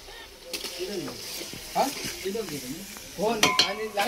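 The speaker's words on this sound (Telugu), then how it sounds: "4 కిలోల చికెను మొత్తం చుక్క ఫ్రై చేస్తున్నా" Four kilograms of chicken fry in a pot outdoors with a crackling sizzle and scraping stirs, while birds chirp in the background and a few louder clanks punctuate the end.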